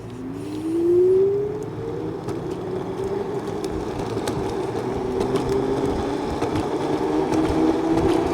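An Evercross H7 electric scooter rolling downhill, a steady whine that rises in pitch as it gathers speed, over continuous road and wind rumble, with no talking.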